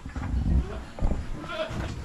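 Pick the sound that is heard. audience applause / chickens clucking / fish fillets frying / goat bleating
goat bleating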